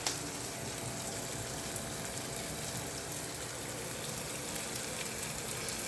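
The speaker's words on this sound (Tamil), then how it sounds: "நல்லா வதங்கட்டும்." Potato and cabbage sauté in a pan with a soft, steady sizzle and crackle that stays faint and even throughout, with no voices.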